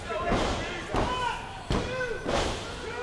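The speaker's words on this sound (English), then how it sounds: "he just sort of dropped down on him with all his weight" At a wrestling show, a senton body drop lands on an opponent with sharp slams and heavy thuds, several impacts in quick succession, under loud commentary.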